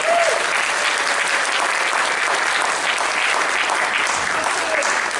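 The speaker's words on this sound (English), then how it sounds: "Big round of applause for Sewage." A dense, steady roar of applause from a convention crowd at a furry con, sustained and evenly loud throughout with no voices standing out.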